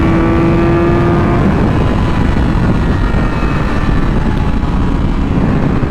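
A Yamaha R6 sport motorcycle engine holds a steady, loud drone at around 8,000 RPM while cruising at 75 mph, mixed with heavy wind rush, continuous and unbroken throughout.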